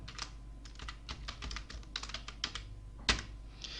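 Rapid clicking of a computer keyboard during online data entry, with irregular close keystrokes and a sharper, louder press of the tab key near the end, no talk.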